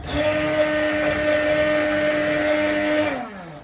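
A blender whirs loudly and steadily for several seconds, its motor pitch dropping as it winds down at the end.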